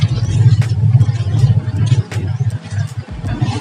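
A 1990 Ford Laser GL engine with a freshly tuned carburetor idles close up at just over 1000 rpm, a steady low throbbing hum with a slight uneven pulse.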